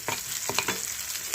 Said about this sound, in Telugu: ఒక్కసారి ఇవి వేగిపోవాలండి